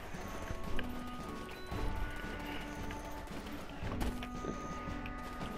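Two horses pulling a big wagon in the Black Desert Online video game, a steady run of clip-clop hoofbeats with wagon rattle at moderate loudness, no speech.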